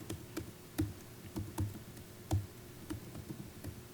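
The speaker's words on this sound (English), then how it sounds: "Typing is hard." Sparse typing on a computer keyboard during a Python spreadsheet demonstration, heard as faint, irregular clicks and taps against a quiet room hum with no talking.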